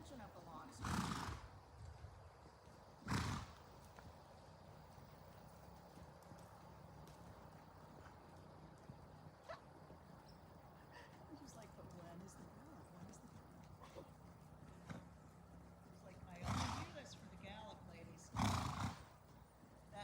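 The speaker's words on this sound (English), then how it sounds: "a nice horse" A horse being ridden in a viola lesson on the long swing snorts and whinnies in loud bursts near the start and end, with hoofbeats and breathing in between under an instructor's talk.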